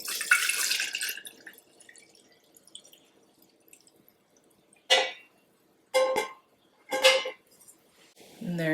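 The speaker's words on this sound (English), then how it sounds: "I generally just rinse the lid and put it back on." Water runs from a kitchen tap over a jar lid being rinsed, a broadband splashing rush for the first second or so, then several short separate bursts of flow later, fairly close, with no talking over it.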